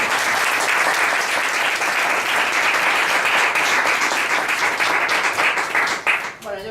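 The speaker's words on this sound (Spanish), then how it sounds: "Pues por favor, un aplauso para..." An audience breaks into sustained applause, dense and even clapping from a sizable crowd that carries on for several seconds before tapering off near the end.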